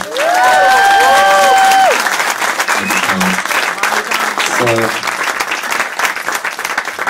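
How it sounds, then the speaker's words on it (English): An audience at an anniversary spoken-word event applauds and cheers in honor of the performer's absent mother. A brief whistle-like tone opens the clapping, which then continues with voices mixed in. "just give her a round of applause for my mom"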